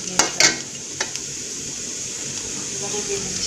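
Oil sizzles steadily in a pan with chilli paste frying, a constant hiss broken by a few sharp clinks of a utensil against the pan near the start, with a voice speaking over it.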